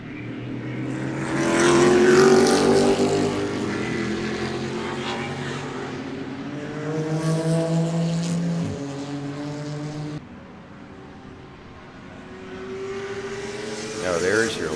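Corvette GT race cars passing at Sebring during a Sunday GT race, engines swelling to a loud roar and then receding, with a second car following; a voice talks over the noise.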